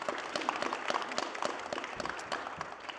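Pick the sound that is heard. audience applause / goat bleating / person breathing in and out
audience applause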